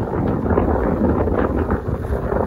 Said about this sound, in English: Little windy out right now